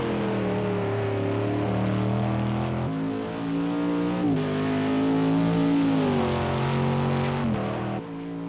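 Aston Martin Vantage GTE race car engine on the Nordschleife in a racing video game, droning steadily at high revs with gear shifts and pitch swells, loud and close, no talk.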